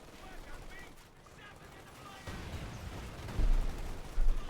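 Sniper and rifle gunfire in the real-time strategy game Company of Heroes 2, with scattered battle noise that swells into heavier bursts of shooting near the end.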